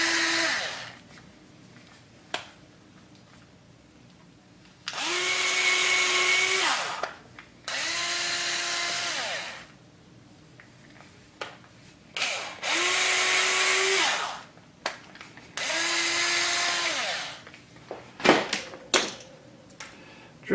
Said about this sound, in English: let's go ahead and drill these pieces out.